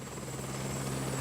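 A five-bladed Airbus H145D3 helicopter drones steadily with a continuous rotor hum, loud and unbroken for a brief moment.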